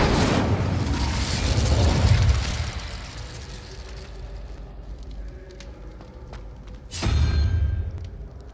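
Incendio fire spell cast in Hogwarts Legacy: a loud fiery whoosh and burst at the start that fades over a few seconds, then a second sharp blast near the end, with faint game ambience between.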